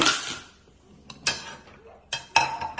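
Fried fox nuts (makhana) being mixed into panjiri, heard as a few short, light clinks and rustles of a spoon against a pan, spaced apart with quiet gaps, close by.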